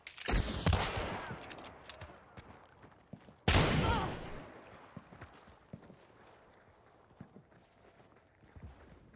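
Shotgun fire in Hunt: Showdown, two loud, close blasts with long decaying tails, followed by quieter footsteps and scattered distant noises.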